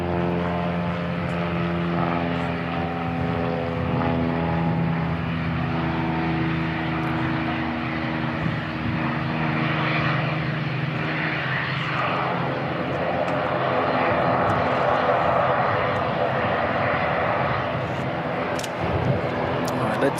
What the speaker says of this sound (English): let's see the cargo bound ATR head off